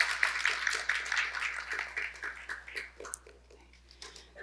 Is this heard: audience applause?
yes